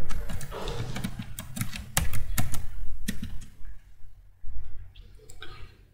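Someone types a password on a computer keyboard, producing irregular bursts of close, crisp key clicks with brief pauses between them and no talking.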